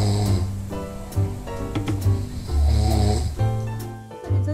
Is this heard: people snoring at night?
yes